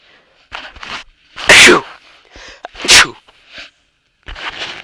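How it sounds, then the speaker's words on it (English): A person sneezes sharply twice, each burst loud and close, with short breathy intakes and a few softer vocal sounds between them. "Sorry, I had to sneeze."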